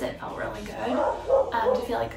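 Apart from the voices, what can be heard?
neighbor's dog barking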